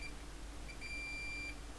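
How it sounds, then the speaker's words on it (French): A multimeter in continuity mode beeps while probing an iPhone 6 motherboard during repair, giving a few thin electronic tones: short beeps, then a longer sustained one, over quiet background hum with no talking. "Ça doit biper. Ça bip."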